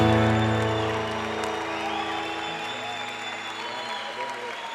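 Church conference crowd clapping for a musician, a fading wash of applause over lingering sustained keyboard chords, with a few cheers and some voices heard.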